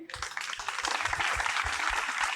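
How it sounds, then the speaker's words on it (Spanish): Audience applause at a kindergarten graduation ceremony: steady, dense clapping from a crowd of parents, moderately loud and continuous throughout without any voices over it. "Un aplaudiment."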